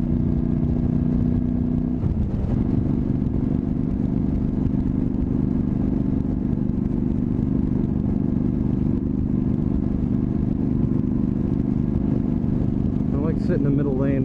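A Honda CTX motorcycle cruises on a highway with a steady, close engine drone and wind rush. The engine note changes shortly after the start and then holds, and a rider talks over it.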